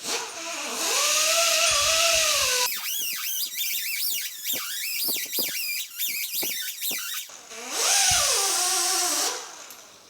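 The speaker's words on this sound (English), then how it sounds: "take the porting tool and with a wire wheel on it, just to clean all the rust up" Wire wheel on a porting tool scrubbing rust off the rear axle of a 1965 Chevelle Malibu SS, a loud whining grind that rises and falls as the tool presses on and off the metal.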